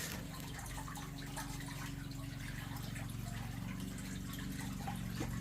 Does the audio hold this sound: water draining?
yes